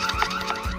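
A motion-activated Ring security camera alarm blares loud and close in a rapid repeating electronic wail, with no voices.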